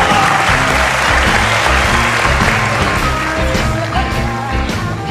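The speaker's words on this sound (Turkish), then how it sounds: "Seni alkışlarla uğurluyoruz." Loud audience applause fills a Yetenek Sizsiniz Türkiye talent show hall, dense and sustained for several seconds over a rhythmic low musical pulse, with a faint voice briefly audible beneath.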